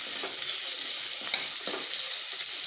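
Onions sauté for a paneer gravy, giving a steady, fairly quiet hiss of oil sizzling in the pan with a few soft stirring scrapes.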